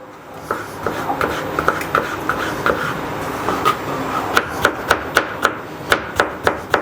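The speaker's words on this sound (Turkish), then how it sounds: "Şöyle 3 adet kornişon turşu. Yine ince şekilde doğrayacağım." Three pickled gherkins are finely chopped with a knife on a board: sparse taps at first, then a quick steady run of sharp, close knife strikes.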